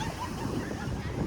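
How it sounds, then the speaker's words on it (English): Ocean waves at high tide, a brief steady wash of surf mixed with wind noise on the microphone, close and continuous. "gotta watch out for these waves guys."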